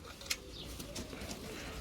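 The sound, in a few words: crested pigeon cooing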